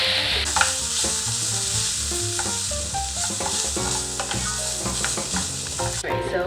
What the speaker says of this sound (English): Stir it in and let that cook for a couple of minutes as well.